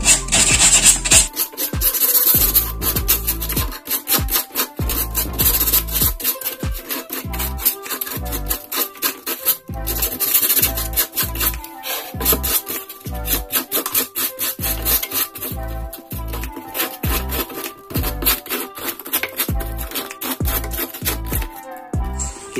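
Rhythmic back-and-forth rasping of sandpaper rubbed against a wooden gaming table, close and loud, in repeated strokes with brief pauses between bursts.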